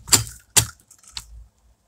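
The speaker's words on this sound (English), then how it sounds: "when you pull the cord, it's clicking" Pull-start of an Echo hedge trimmer with a faulty starter that skips on the shaft: two sharp clicking snaps as the cord is pulled, then a softer third click and a low rumble, close and alone.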